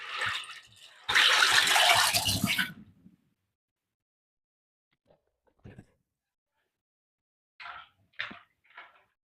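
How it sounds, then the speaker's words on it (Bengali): Dry pasta, three kinds, poured into hot water in a wok: a loud rushing splash and clatter lasting about two seconds, then a few faint, brief clinks and knocks of the pot. "এই যে গরম জলের মধ্যে পাস্তাগুলো ঢেলে দিচ্ছি।"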